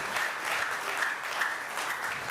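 Sustained crowd clapping from a lecture audience at a science and engineering hall of fame event, a thick continuous patter of many hands at steady volume.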